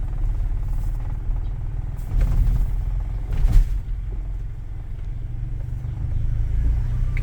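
Toyota Innova petrol car fitted with double Black Core, driven on a test drive: a steady low engine rumble and road drone that swells briefly, heard from inside the cabin, with no talk.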